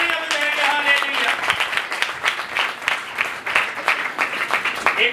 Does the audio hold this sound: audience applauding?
yes